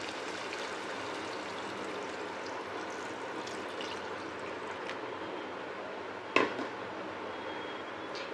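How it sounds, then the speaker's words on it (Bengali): Hot water poured into a potato and shrimp curry (oler dalna) in a Bengali home kitchen, a steady close pouring rush lasting throughout, with a brief clatter near the end. "এবার পরিমতন গরম জল ঢেলে দিচ্ছি।"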